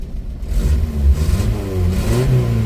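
A 4x4 Trooper engine holds a high idle with the air conditioning on, a close, steady whirring drone with slight rising and falling tone, with no talk over it.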